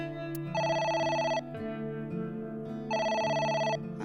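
A phone in the video game AI: The Somnium Files rings with two long electronic trilling bursts over a steady, low background tune, with no voices.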